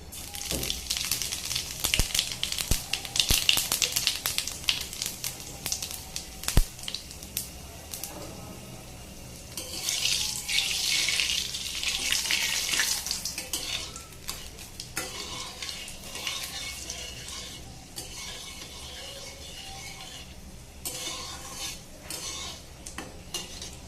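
Cumin, black cumin and dried chillies hit hot oil in a kadai, giving a bright sizzling burst midway, surrounded by scattered metallic scrapes and clinks of a spoon against the pan.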